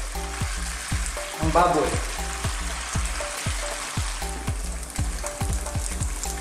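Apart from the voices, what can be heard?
tofu frying in oil until golden brown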